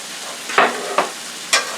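Cilantro stirred into onions and peppers sizzling in a pan, a steady frying hiss broken by three scraping stir strokes, close and alone.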